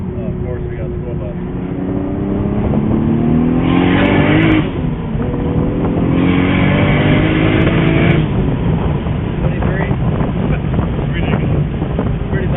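A car engine revs and accelerates loudly under steady wind rumble, with people talking over it and rising engine tones sweeping up between shifts.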